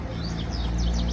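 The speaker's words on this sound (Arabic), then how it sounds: "العصافير تزقزق." Small birds chirp in the open air on an early morning walk, a few short tweets and calls rising over a steady low rumble of outdoor background noise.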